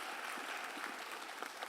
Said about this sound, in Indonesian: mari beri tepuk tangan untuk dokter Irham.